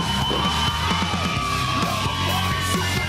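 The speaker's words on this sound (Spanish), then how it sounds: "la bulla, la algarabía, los aplausos, los gritos de toda la gente que llevaste" A loud bodybuilding-competition audience yells, whoops and cheers without letup, a dense crowd roar with scattered shouts rising and falling throughout.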